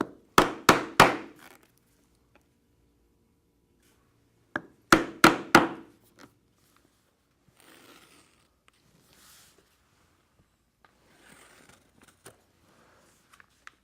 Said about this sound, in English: in the two corners, I will very carefully punch the 3/16 inch holes.